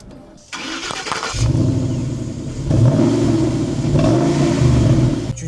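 A Ford Mustang GT V8 turns over and fires up, settling into a loud, steady burbling idle with a slight rise in revs, close by and heard without talk.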